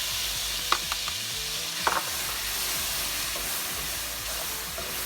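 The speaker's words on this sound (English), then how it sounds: "Whatever oil is left in the fat from the beef. And then I'll start adding onions." Onions sizzle in leftover beef fat and oil in a pan after searing short ribs, a dense steady frying hiss with a few brief utensil taps and scrapes.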